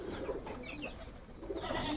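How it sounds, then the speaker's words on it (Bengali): Flying pigeons kept on a rooftop coo softly in short, quiet bursts against a constant outdoor background hiss. "এই যে কবুতর কিছু উঠছে উপরে"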